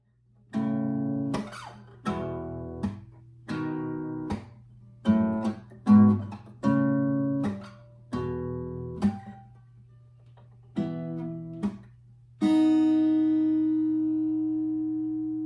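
Strummed guitar chords play in a steady rhythmic pattern, with short pauses between groups, ending on a ringing chord that fades out.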